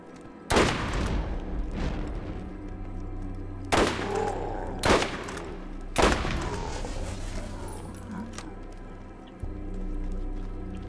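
Guns firing in Borderlands, several sharp loud shots and short bursts spaced a few seconds apart, each ringing out over a low steady background rumble.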